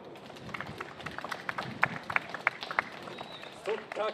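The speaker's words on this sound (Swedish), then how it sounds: "En varm applåd!" Scattered, thin applause from an outdoor political rally crowd on a Sunday morning in Örnsköldsvik, individual claps popping distinctly rather than merging, with a voice breaking in near the end.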